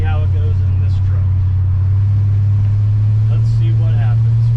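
Crown Vic-swapped 1979 Ford F150 Lariat with patina rolling over high railroad tracks, a steady low engine drone inside the cab under someone talking throughout.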